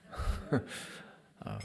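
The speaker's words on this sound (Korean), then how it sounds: "하품하신 분도 계시고." An audience member at a church Bible seminar yawns, a short breathy drawn-out sound heard from within the hall with faint room noise around it.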